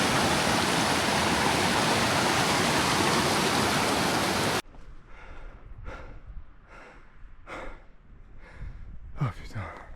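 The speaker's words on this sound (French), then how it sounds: "Et la cascade en bas évidemment." A waterfall cascade beside a mountain hiking trail roars loudly and continuously at close range, then cuts abruptly to quiet, with heavy breathing and sighs from a nearby hiker.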